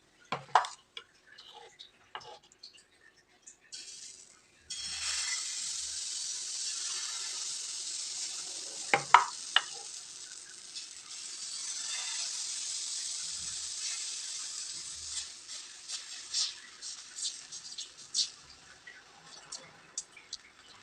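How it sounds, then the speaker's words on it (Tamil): Egg batter poured onto a hot dosa pan sizzles with a steady, soft hiss after a quiet start, with scattered ticks and pops over it and a few faint bits of speech. "இப்போ இது அடுப்பில் தோசை கல் வச்சுட்டு ஊற்றிடலாங்க"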